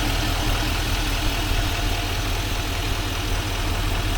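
A 2025 Chevy Silverado 2500HD Z71 with a 6.6 Duramax diesel and Allison transmission idles steadily, a loud constant low rumble with a faint knocking pulse and no talk over it.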